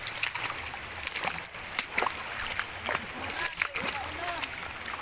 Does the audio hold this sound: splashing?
yes